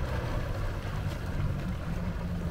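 A 2021 Yamaha VX1800 HO jet ski engine idles at about 1200-1300 rpm, giving a steady low rumble with a faint watery hiss on top. No one speaks.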